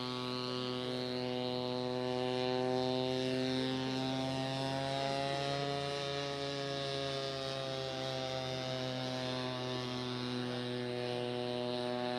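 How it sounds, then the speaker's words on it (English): An Avartek Boxer Hybrid drone, a hybrid-powered multirotor carrying a 5 kg payload, makes a loud, steady droning whine with a constant engine hum. It runs unbroken throughout, with no talking. "The noise maybe was too loud when the drone was flying by."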